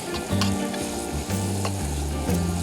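Venison steak sizzles in a skillet while being stirred around, a loud close crackle broken by repeated scraping strokes and an uneven low rumble.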